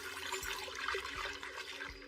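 Water conjured by a spell in an anime fills a cup, a steady rushing, splashing pour with faint low thumps, continuous and moderately quiet throughout.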